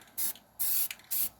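Three short bursts of hissing spray from an aerosol paint can, evenly spaced with quiet gaps, close up and fairly soft.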